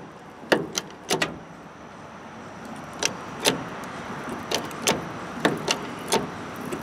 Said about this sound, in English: I can hear the frame crinkling as it's starting to get weak.